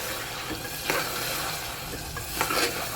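A spoon stirs garam masala and roasted cumin powder into mutton keema sizzling in a pan. Close, continuous frying hiss is broken by a few scraping stir strokes.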